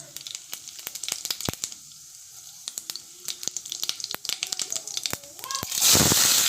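Cumin seeds hit hot oil in a kadhai for tempering, giving sharp scattered pops and crackles over a quiet background, building to a loud rushing sizzle at the very end.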